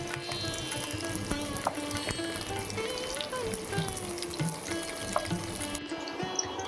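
Mixed vegetables (cauliflower, flat beans, brinjal and carrot) frying in hot oil for a katla fish curry, a steady soft sizzle with faint stirring and occasional clinks throughout, no voices.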